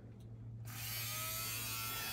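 An electric fabric shaver starts up against a cashmere jumper, a low idle hum jumping after a moment into a loud, steady buzzing whir close by, with no voices.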